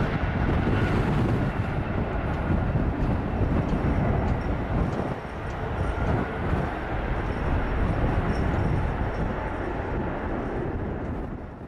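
An Aer Lingus Airbus A321neo's engines roar steadily through a go-around after wind shear during the flare, a loud continuous broadband rumble with wind buffeting the microphone and no voices.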